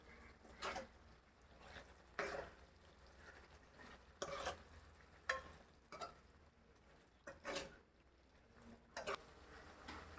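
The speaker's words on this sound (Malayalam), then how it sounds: "ഉപ്പ് ചേർത്തതിന് ശേഷം നന്നായി ഇളക്കുക." Chilli pickle stirred in a pan after salt is added, heard as sparse scraping strokes of a spoon against the pan, faint and irregular with quiet gaps between them.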